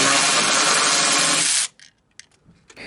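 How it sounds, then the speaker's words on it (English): A power tool with a 3/8 drive 8mm socket runs in one loud, continuous burst as it spins out bolts on a car's trunk lock actuator, then stops abruptly and leaves a few light clicks and handling knocks. "So now all we gotta do is remove these 3 bolts, and I've got a 3/8 drive 8mm"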